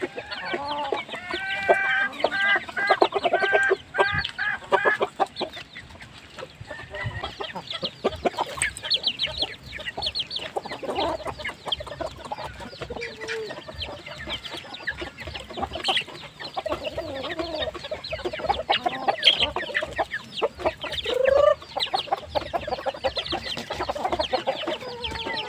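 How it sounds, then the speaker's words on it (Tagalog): Small-breed chickens clucking steadily at close range, with repeated chattering calls and occasional louder squawks from several birds over about twenty-five seconds, set in a backyard flock with no talking. "pinakamaliit na lahi sa aking mga manok"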